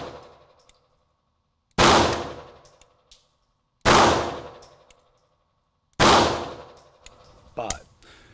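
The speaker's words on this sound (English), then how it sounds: "I'm just gonna do one shot at a time for 5 rounds" A handgun fired one shot at a time at an indoor range: three loud, sharp, booming reports about two seconds apart, each trailing off in echo, with faint metallic clinks between shots.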